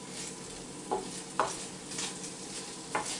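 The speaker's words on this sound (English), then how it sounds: "It's starting to sizzle again." A steady sizzle of prawns frying in a pan, with a few light clinks of a utensil stirring or tapping against the pan.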